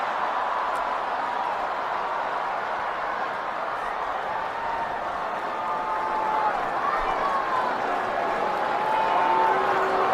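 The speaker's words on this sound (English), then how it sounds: "using the crowd audio to really pick up all that Dodger Stadium was saying and shouting and chanting and booing in Kyle Tucker's performance yesterday." The Dodger Stadium baseball crowd keeps up a steady, loud roar of shouting that swells slightly toward the end, while a broadcaster's voice runs over it.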